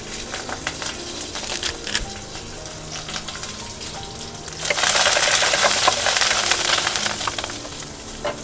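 Cumin seeds and curry leaves roasting in a pan for cucumber roti pachadi give a soft, crackly sizzle that swells noticeably louder about halfway through, with no talking.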